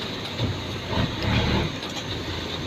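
A train rolls past on a railway line, a fairly faint, steady rumble with soft clattering and hiss, heard without talk.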